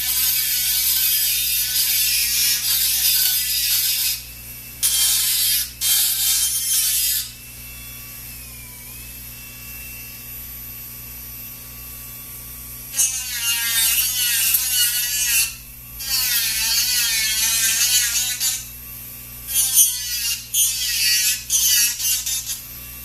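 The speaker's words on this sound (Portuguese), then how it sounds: "primeiro momento eu removo esse excesso. Cuidando para que a broca não encoste no fio" A dental drill bur trims excess acrylic from a palatal appliance, whining in steady high-pitched bursts that start and stop, with pitch sweeps as the load changes and short pauses between passes.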